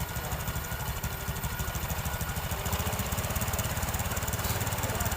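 A Honda Supra 125 motorcycle engine running at raised idle, a steady, close, rhythmic putter with an even pulse throughout.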